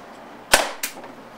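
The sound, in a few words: Tippmann TCR paintball marker firing a shot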